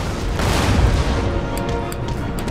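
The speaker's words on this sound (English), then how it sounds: "the problem with the artillery in this battle is that they're hitting a lot" Artillery pounds away in a video game recreation of the Battle of Bemis Heights between Great Britain and the USA, as a dense, continuous rumble of cannon fire with scattered sharper reports.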